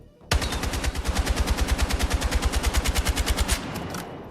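An automatic weapon fires in the Battlefield 6 video game, a single rapid, evenly spaced burst of about thirty loud, close shots lasting around three seconds before cutting off.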